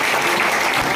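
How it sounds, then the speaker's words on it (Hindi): Brief burst of crowd applause at an outdoor political gathering in heavy rain, a dense, loud wash of clapping with faint voices mixed in. "मैं चाहता हूं सारे लोग तालियां बजाकर"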